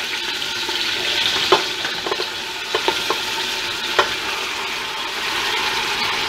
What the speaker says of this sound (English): So now is the time to add your meat into the pressure cooker.